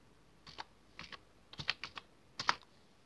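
Keys clack on a computer keyboard in short bursts of a few quick taps separated by brief pauses, close and fairly quiet against a near-silent background.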